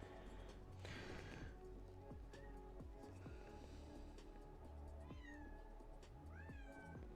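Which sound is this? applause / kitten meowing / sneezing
kitten meowing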